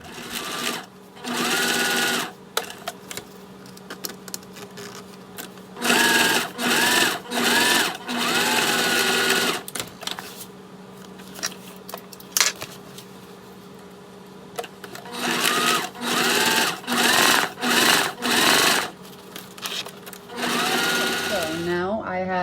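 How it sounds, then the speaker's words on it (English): Sewing machine top stitching a rectangular wallet piece, repeated bursts of fast mechanical whirring with short pauses between runs, close up, with someone talking during the gaps. "we're gonna top stitch just the top of the rectangle and leave the sides open still"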